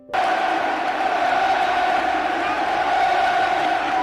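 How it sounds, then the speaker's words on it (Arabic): Dense, steady stadium crowd roar at a football match, loud and sustained, with massed voices blending into a continuous chanting wash rather than distinct words. "ولا ميسي سيهدأ قلبه حتى يسمع الجماهير تهتف من جديد:"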